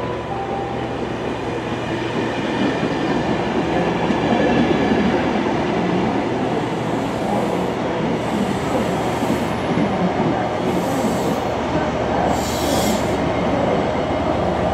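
An Arriva Trains Wales passenger train to Holyhead arrives, rumbling steadily close by, wheels clattering on the rails, with intermittent high squeals of wheels and brakes.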